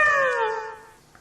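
A tame house cat gives a single drawn-out meow, loud and close at first, then sliding downward and fading away, heard on its own with no talking.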